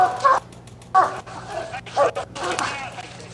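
Hound dogs bay and bark at a tree during a UKC Tournament of Champions competition hunt, sounding in a few loud bursts at middle distance with quieter gaps between them, while people talk nearby.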